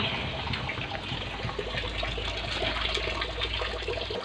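Steady rushing spray of water from a tap, a constant hiss without breaks, fairly close and moderately quiet.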